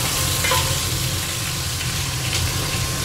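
Food sizzles and crackles steadily in hot vegetable oil at close range in a boat's galley, with a brief stir partway through.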